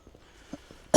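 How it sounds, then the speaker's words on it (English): A single sharp cough bursts out close and loud at the end, after quiet rustling from outdoor garden work. "Oh, coughing."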